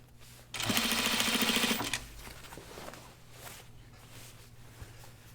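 Sewing machine stitching a kimono neckband, a loud rapid mechanical whirring run lasting just over a second before it stops, followed by quieter fabric handling and faint clicks.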